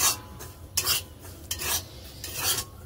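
Food frying and being stirred in a pan at home, a scraping, rasping stir repeated in short bursts about every half second against a low steady background, close and fairly quiet.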